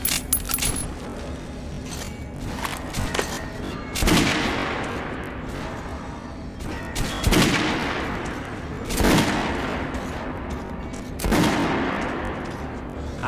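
Gunfire at a shooting range in Metro Last Light, four heavy, spaced single shots with ringing tails, with faint metallic clinks between them and no talking.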